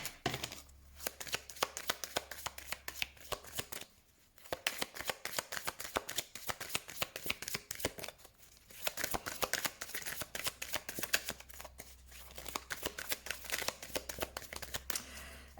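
Tarot cards are shuffled by hand for a reading, a continuous crisp rapid riffling and slapping close up, broken by a few short pauses, with no talking.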